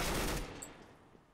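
Gunfire in the video game Counter-Strike: Global Offensive, a loud dense burst of rapid shots at the start that cuts off and leaves a fading tail of reverb.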